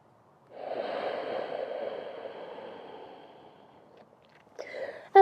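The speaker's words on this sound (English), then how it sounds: "Inhaling through the nose, sending all that yummy oxygen to our glutes and our thighs. And exhaling through the nose." Slow nasal breathing during a prenatal yoga session: a long, soft inhale and exhale through the nose, airy and close, fading over several seconds before a brief quieter breath near the end.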